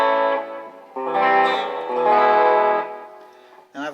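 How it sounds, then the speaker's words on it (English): Sustained electric guitar chords through a '65 Deluxe Reverb amp with overdrive and delay ring out with a gritty tone and lingering echoes, swelling and fading, then a short new strum at the end. "I've got this set up on a 65 Deluxe reverb, some overdrive and some delay"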